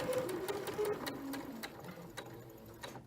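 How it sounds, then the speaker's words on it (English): Sewing machine stitching a plain seam to the end of the fabric, a fast, steady mechanical rattle of the needle, quiet and close, stopping just at the end. "And sew all the way to the end of the fabric."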